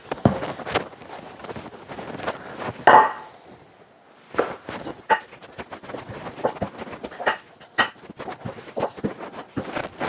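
A fork pricks thin rolled dough for lahm bi ajeen, giving scattered sharp taps and clicks against the board at an uneven pace, with a brief scraping burst and quiet pauses between.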